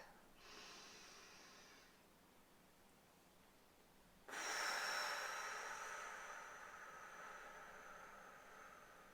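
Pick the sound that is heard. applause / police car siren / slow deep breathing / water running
slow deep breathing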